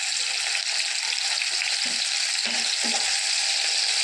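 Small chopped tomato sizzling and frying in sesame oil, a steady broadband crackle throughout with a few brief stirring scrapes, close and continuous with no talking.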